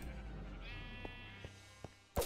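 Sheep bleating in the Minecraft video game, a single drawn-out, wavering bleat at moderate level, followed by a few faint clicks and a sharp sound at the end.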